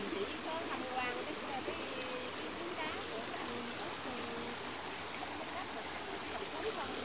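A mountain stream formed by flash-flood water after a landslide rushes steadily with a broad, continuous hiss of flowing water, moderately distant and even throughout.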